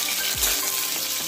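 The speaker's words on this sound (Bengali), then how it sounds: "বড়িটা ভাজার পরে করলাটা ভেজে নিচ্ছি।" Lentil dumplings (bori) frying in hot oil give a close, steady crackling sizzle, with light stirring sounds over about a second.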